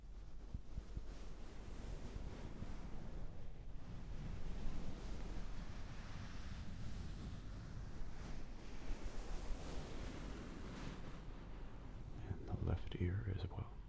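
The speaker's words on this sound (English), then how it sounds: "if I was to touch the outside of the hood, outside of your right ear, it would sound like this." Hand brushing and rubbing the outside of a fleece-lined hoodie hood, recorded binaurally as a soft, continuous muffled rustle and swish near one ear, faint and close, with a few brighter scratchy touches toward the end.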